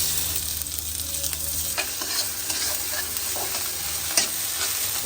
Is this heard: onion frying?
yes